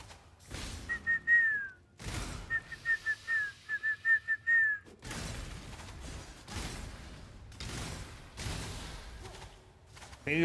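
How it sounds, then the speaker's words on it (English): A person whistling close into a microphone, a few short bursts of bright warbling whistle tones separated by thumps and handling noise, loud and near, with no talking. "Whistling in a mic sounds awful."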